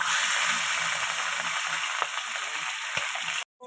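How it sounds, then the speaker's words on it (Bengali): Onions frying in oil for a fish curry, a steady close hiss and crackle with a couple of soft stirring knocks, cutting off sharply at the end, no voices. "ও এই পেঁয়াজ ভাজা হচ্ছে মাছের ঝালে।"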